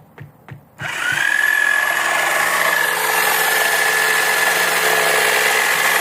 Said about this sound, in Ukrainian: І дивимося, як буде різати зараз наш лобзик.